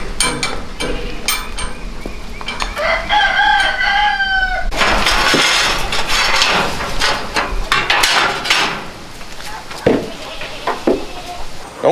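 Farm chickens and a rooster clucking and crowing close by, with sharp knocks and rattles mixed in, then a burst of broad, noisy rustling and scuffling through the second half.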